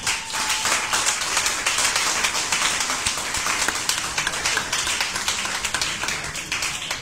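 An ovation for the mothers at a French-speaking church gathering: dense, steady clapping from a large crowd that holds at an even level for several seconds, with no voices breaking through.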